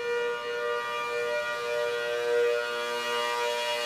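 An 810 model tornado siren holds a steady, sustained chord-like wail, loud and unbroken with only slight swells, heard alone without voices.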